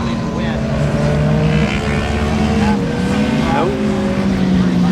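Vintage two-stroke motorcycles race around a track, their engines droning loudly and continuously with rising and falling pitch as bikes pass, while a commentator talks over the noise.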